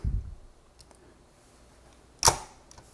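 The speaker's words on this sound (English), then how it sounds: "click it into place." Two sharp plastic clicks from the blue retention tabs of an AMD Threadripper TR4 socket snapping into place, one soft thud at the start and a crisp, close click near the end, in an otherwise quiet room.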